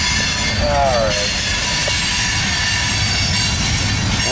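Norfolk Southern freight train rolling past near Alliance with its locomotive on the rear, a loud continuous rumble of wagons with a brief wheel squeal early on, close and steady throughout.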